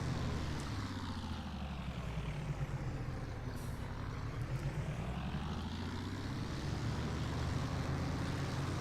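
Propeller airplane engine in a flight combat video game throttling down, a loud droning whine whose pitch sweeps lower then rises again, sustained without talk.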